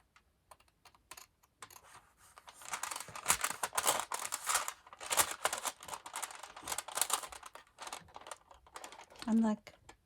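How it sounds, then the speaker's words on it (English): Scissors snipping through paper while making a collage envelope journal page, a run of close, rapid crisp cuts and rustles in the middle, with someone talking briefly around them. "I'm going to cut it with the scissors."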